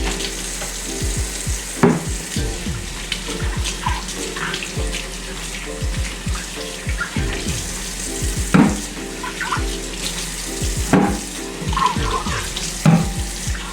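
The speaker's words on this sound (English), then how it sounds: "I'm just going to give these cans a good wash at the top" Cans being rinsed under a running kitchen tap in a home kitchen, a steady close hiss of water with intermittent clanks and knocks of metal against the sink.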